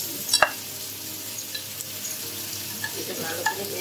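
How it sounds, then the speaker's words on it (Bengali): Chopped onions fry in a pan of hot oil tempered with black cumin for a spicy tangra fish curry, giving a steady close sizzle broken by a few sharp spatters and stirring scrapes. "পেঁয়াজটা আমার প্রায় ভাজা হয়ে এসছে"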